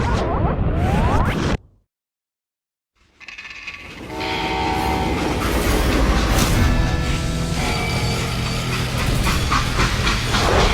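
Rumbling freight train from the Wild West shooter Call of Juarez Gunslinger, a loud steady roll of wheels and cars with a horn-like tone, cutting out briefly to near silence before the continuous rumble returns.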